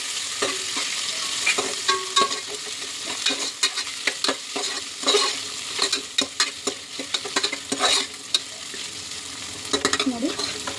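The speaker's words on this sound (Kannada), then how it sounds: "ಈಗ ಅದಕ್ಕೆ ಒಂದು ಸ್ವಲ್ಪ ಈರುಳ್ಳಿ ಆ್ಯಡ್ ಮಾಡ್ಕೊಳ್ಳಿ. ಸೊ ಈಗ ಒಂದು ಸ್ವಲ್ಪ ಫ್ರೈ ಆಗ್ತದೆ." Sliced onions frying in oil in a pan for chicken curry, a continuous sizzle broken by repeated scraping and stirring strokes of a spatula against the pan, close and clear.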